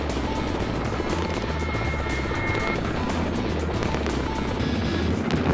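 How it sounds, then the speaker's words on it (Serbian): Serbian Army Mi-8 transport helicopters pull away from a landing zone after troops rope down during a military capabilities display. A loud, steady roar of rotor and turbine fills the whole stretch, with no voices. "Nakon desantiranja posada transportnih helikoptera odbacuje užad i helikopteri se udaljavaju iz reona izvršenja dejstva."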